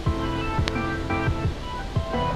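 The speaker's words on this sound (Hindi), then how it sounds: "पूरा डैम ओवरफ्लो हो गया है," Water cascades over the crest of the flooded Sasoi dam in Jamnagar, a constant close roar broken by a few low, soft thumps at irregular intervals, with nobody speaking.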